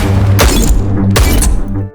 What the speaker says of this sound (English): fired several shots at the bulletproof glass in the lab